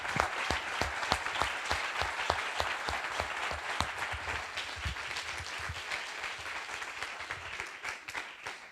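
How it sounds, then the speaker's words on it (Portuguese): Audience at the close of an inaugural event gives the speakers a full round of applause, a steady wash of many hands clapping, soft and somewhat distant, holding evenly then easing off at the end. "Eu queria dar uma grande salva de palmas e agradecer aos nossos oradores."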